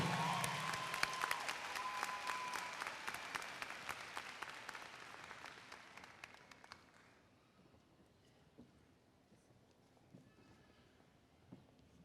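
Applause from a crowd at a high school graduation, loud at first and then thinning out and fading to scattered claps and quiet room noise over several seconds.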